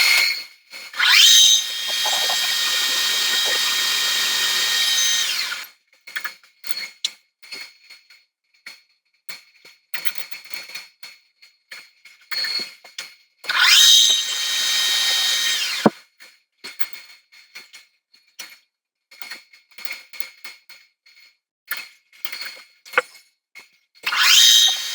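Drill boring holes in steel lifting links at 3.5 and 4.8 mm, then a 5 mm reamer, heard as a steady whining run, a pause, another run, and then many short intermittent bursts in a workshop.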